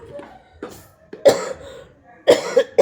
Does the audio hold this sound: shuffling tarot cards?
no